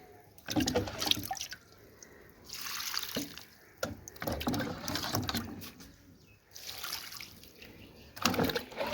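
Water pours onto garlic plants in a home garden, a close, gushing and splashing flow in several uneven bursts with short pauses and drips between them.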